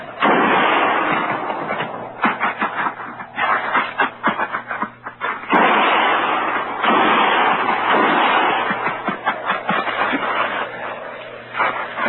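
Rapid bursts of gunfire crack over a constant background hum, loud and close, with shots coming in quick uneven clusters in an old Western frontier skirmish.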